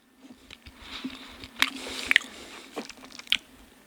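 Close, crunchy bites and wet chewing of Little Caesars pizza, with several sharp crunches among softer mastication sounds, no talking.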